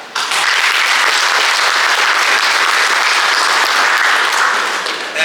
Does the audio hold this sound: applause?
yes